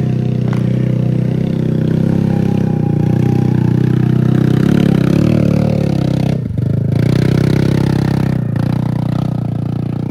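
An automatic scooter motorcycle engine strains loudly and steadily as it climbs a steep road, a continuous close drone with brief dips and rattling scrapes partway through.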